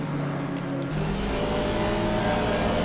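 Racing cars, among them a BMW, roar around the wet Spa circuit, a loud, steady engine drone with some spray noise and a pitch change near the one-second mark, continuous throughout.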